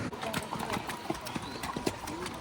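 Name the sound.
horse hooves clip-clopping in Betaab Valley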